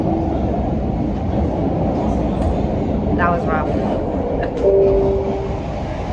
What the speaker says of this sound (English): we ended up back on the new train.